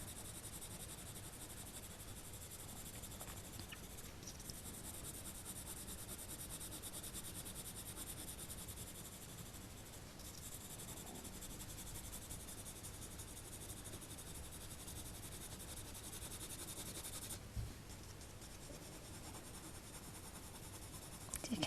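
Coloured pencil hatching on paper with light, controlled pressure: faint, steady scratchy strokes run on quietly and evenly for the whole stretch, close up with no voices.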